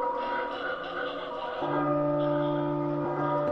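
A bell tolls inside the horror game Silent Hills P.T., with a sustained ringing tone that swells partway through and hangs over a faint game ambience.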